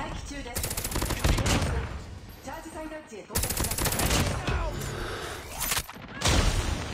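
Gunfire from a Striker shotgun in a fast-paced shooter game, loud repeated blasts in several dense bursts mixed with other battle noise, with a player talking over the action.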